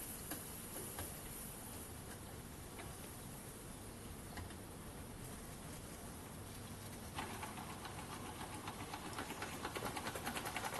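A well-used hobby lathe runs with a single belt on a newly machined brass pulley, giving a steady mechanical whir with a faint ticking rhythm that grows slightly louder near the end, with no talk.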